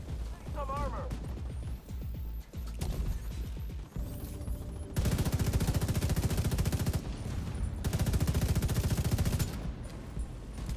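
Sustained automatic gunfire in the Operation Iron Horse video game, two long loud bursts of rapid rattling shots with scattered single shots and mechanical clatter before them.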